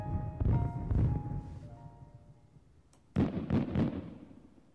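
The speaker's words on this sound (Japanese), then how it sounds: "来年もみんなでこの花火を見に来よう。" Fireworks bursting at a festival night scene in a Japanese horror video game: a few loud booming pops with crackle, a fading lull, then another cluster of sharp bursts.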